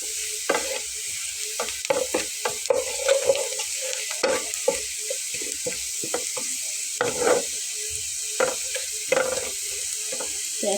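Black cumin seeds are stirred into onions frying in a pan, giving a continuous bright sizzle broken by repeated scraping strokes and light clinks of the spatula against the pan.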